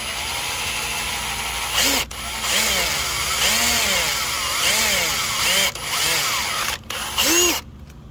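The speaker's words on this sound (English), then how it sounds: "drill your marks on each side using a 1/4" drill bit" A power drill fitted with a 1/4 inch bit bores through the plastic dash panel of a 5th Gen 4Runner, whining in short rising bursts that start and stop several times, up close and loud.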